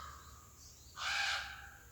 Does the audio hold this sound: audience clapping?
no